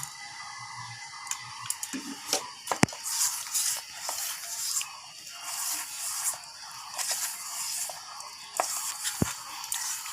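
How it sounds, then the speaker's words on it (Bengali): Soft, wet squishing and pressing as dough for sitabhog sweets is kneaded by hand with a little water added, a close and quiet texture with occasional sharper squelches. "এখন হালকা হালকা আমি জল দিয়ে এটাকে একটা দো তৈরি করব"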